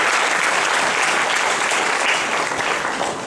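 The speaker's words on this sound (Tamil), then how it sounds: "Yes, I think we can give him a bigger applause than that." An audience at a partners' meeting event in Chennai breaks into steady, dense applause that carries on at full strength throughout, easing only slightly at the very end, with no talk over it.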